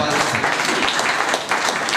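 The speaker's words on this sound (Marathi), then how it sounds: "वा, छान, टाळ्या टाळ्या." Applause from a lecture audience listening to a retired IPS officer speak on changing India and police administration, steady dense clapping that fills the moment at an even, fairly loud level.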